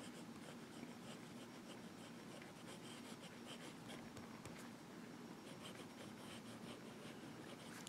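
Fine-nib fountain pen writing in Mont Blanc Midnight Blue ink, a steady soft scratching and rubbing across paper, quiet and continuous with no talking.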